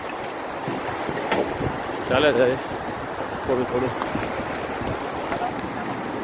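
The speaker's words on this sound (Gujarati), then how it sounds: "આ ઝરણું છે" A cold mountain stream near an iron bridge on the Amarnath Yatra route rushes with a constant broadband hiss close to the microphone, while a person speaks briefly over the flowing water.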